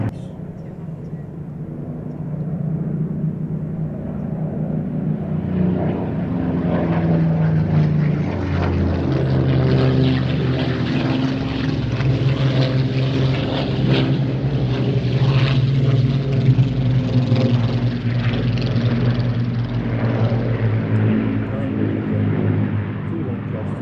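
Propeller aircraft with clipped wings flying past at an air festival, its engine drone swelling and shifting in pitch as it passes, with a person talking over it throughout.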